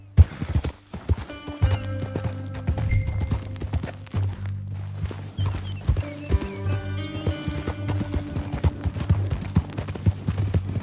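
Horse hooves clip-clop steadily on the ground while a horse neighs and whinnies in Red Dead Redemption 2, with ambient game sounds and occasional faint voices in the background.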